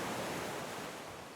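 Ocean surf washes in a steady, soft, continuous hiss and rumble that fades slightly near the end, heard alone with no talking, as a calm meditation background.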